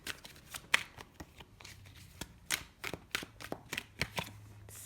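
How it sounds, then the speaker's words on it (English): Tarot cards are shuffled and handled close up, giving a quick, uneven series of crisp flicks and soft slaps with no one speaking. "Let's pull a couple more cards here for the main spread."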